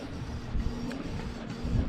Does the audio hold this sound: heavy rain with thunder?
no